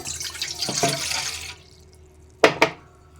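Water runs in a steady splashing stream into a glass for about a second and a half, then stops, followed by two quick clinks of glass or metal.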